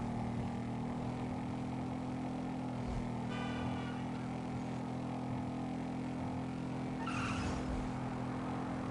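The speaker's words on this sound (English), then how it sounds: "What a squeal!" Tires squeal on a car in the video game GTA V, with two brief high screeches rising over a steady, droning engine and road hum.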